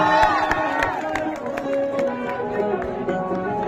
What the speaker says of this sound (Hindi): इस लड़के के लिए जोरदार ताली बजा दीजिए।